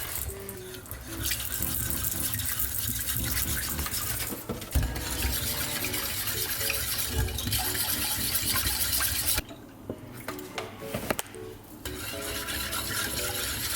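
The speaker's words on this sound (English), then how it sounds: "And now, while you stir, you put in some milk." Milk is stirred into a sauce in a pot while cooking a lasagna dome, giving a steady wet swishing and sloshing that runs nearly throughout, with a brief quieter dip near the end.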